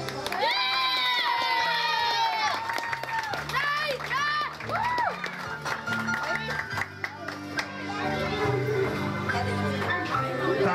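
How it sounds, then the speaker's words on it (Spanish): Guests at a quinceañera party in Miami clap and cheer as couples of the honor court are announced, a lively crowd roar with shouts over music, continuous for several seconds. "El aplauso."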